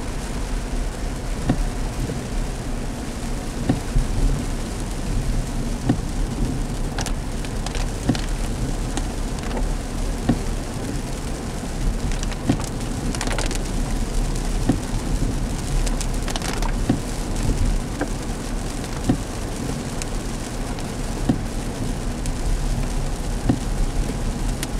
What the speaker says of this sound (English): Because this is a cold rain.